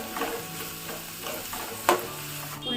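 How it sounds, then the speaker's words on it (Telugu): Chopped onions and green chillies frying in a pan, a soft sizzle with light stirring scrapes and one sharper clink of the spoon, close but fairly quiet, no talking. "ఉల్లిపాయ ముక్కలను వేసుకోవాలి. కలర్ వచ్చేంత వరకు వేయించుకోవాలండి."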